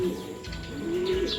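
Breeding pigeons kept as gift birds in a loft give soft repeated cooing calls, close and fairly loud, with a few chirps mixed in and no talking.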